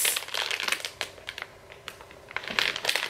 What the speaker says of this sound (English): I got six of the clear plastic bags.